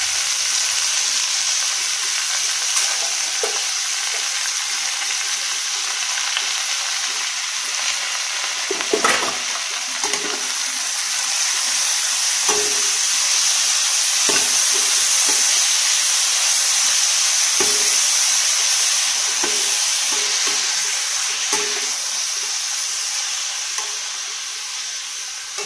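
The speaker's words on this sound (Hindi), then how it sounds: "पालक आलू मैंने काट के रखा था, वही मैं इसमें ऐड कर रही हूँ।" Chopped spinach and potato frying in a pan, a steady close sizzle and hiss with scattered scrapes and clinks as the mixture is stirred, fading slightly near the end.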